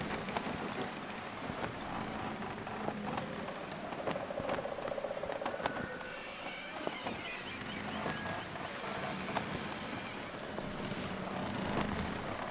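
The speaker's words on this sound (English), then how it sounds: "It's very windy though." Cold wind blowing outside in the survival game The Long Dark, a steady, fairly soft rushing whoosh with faint gusting swells, continuous throughout.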